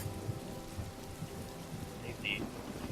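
Steady rain of a storm, with a dense broadband wash and low rumbles that may be distant thunder, running through the whole stretch with a brief brighter sound near the end.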